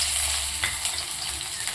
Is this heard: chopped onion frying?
yes